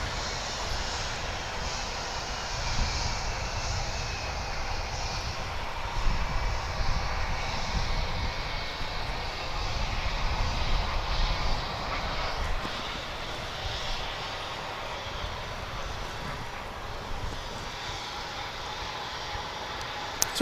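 Steady, broad roar of a jet airliner engine at DFW International Airport, heard continuously near the runway with a slight swell in the middle, no talking over it.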